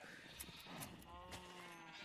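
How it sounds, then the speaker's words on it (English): Sheep bleating in the Minecraft video game, several short, faint bleats heard under a quiet, busy mix of game sounds. "So we're going to feed the sheep, we're going to shear the sheep"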